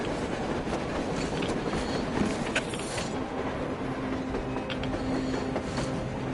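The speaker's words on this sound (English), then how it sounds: "A train! A damn train on the surface!" A train rolls along rails in the video game Metro Exodus, a steady rumbling, clattering wash with faint rhythmic clicks and metallic squeals, loud and continuous throughout.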